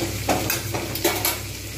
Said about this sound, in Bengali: আলু বরবটি খুব ভালোভাবে ভাজা হয়ে গেছে পেঁয়াজের সঙ্গে